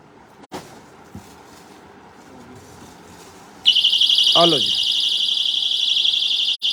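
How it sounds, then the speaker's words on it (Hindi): Personal emergency alarm device for a child's bag switched on, emitting a loud, piercing continuous electronic shriek nearby after brief handling noises, while someone speaks briefly over it. "एमरजेंसी अलार्म सिस्टम, बच्चों के बैग शैग के अंदर रख सकते हैं।"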